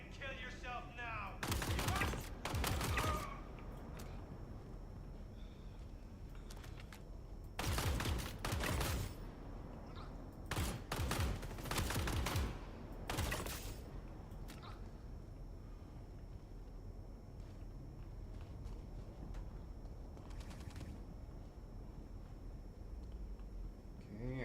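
Video game gunfire in several bursts of rapid automatic shots, loud bursts around the start and middle, separated by quieter gaps.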